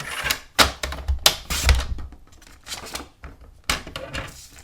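A paper trimmer slices through card stock in a run of sharp clacks and scraping cuts, with several loud snaps separated by short quiet gaps and softer handling noise between, no talking.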